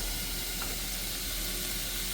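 Vegetables sautéing in a hot pan with brown sugar for Jamaican escovitch fish, a steady close, even hiss and sizzle that continues unbroken with no talk.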